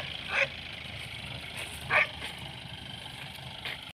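A dog on farmland barks in three short, sharp yaps spaced about a second and a half apart, moderately close over a low, steady outdoor background with no speech.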